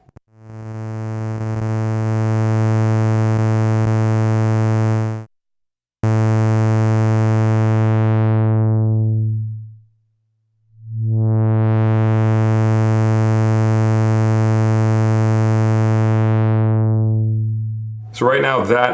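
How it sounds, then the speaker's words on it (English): An Alesis A6 Andromeda synthesizer holds a steady buzzy tone through a notch filter routed into a second filter, with no resonance. Long sustained notes swell and drop out twice, and a brief burst of sound ends the passage. "the notch filter coming out of filter 1 being routed into filter 2"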